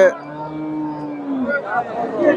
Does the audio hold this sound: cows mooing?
yes